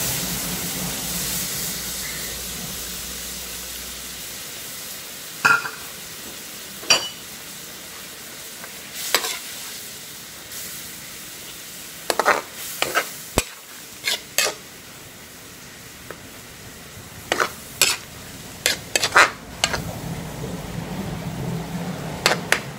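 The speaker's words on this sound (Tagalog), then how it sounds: "pwede nating ilagay na itong malapot na gata" Thick coconut milk poured into a pot of simmering cassava leaves, a steady hiss and bubbling with repeated sharp clinks of a utensil against the pot.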